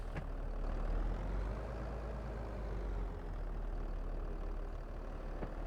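Tractor engine from Farming Simulator 22 idles with a steady low rumble, running evenly and continuously at moderate distance with no talking over it.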